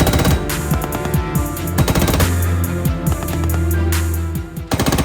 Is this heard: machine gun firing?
yes